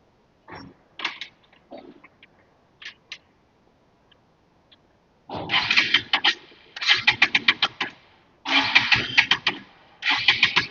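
A motorcycle engine that runs fine in the morning but misfires by afternoon, heard in short cranking bursts that then catch into stuttering, uneven running, loud and close with gaps between attempts.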